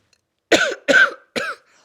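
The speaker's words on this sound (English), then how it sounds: "I'm like still coughing from it." Three sharp, close coughs in quick succession, each a harsh burst with a brief pause between, then quiet.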